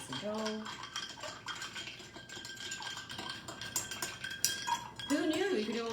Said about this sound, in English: I'm going to add ice, and I'm just going to stir it until it's cold